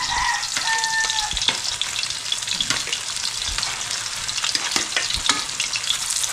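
Food fries in a pan with a steady loud sizzle and crackle, close up and continuous, with occasional sharper pops and a brief stirring scrape.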